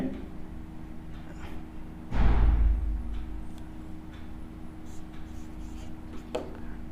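A set of numbers is written out during a maths lesson, with faint scratchy strokes over a quiet background and one dull thump partway through.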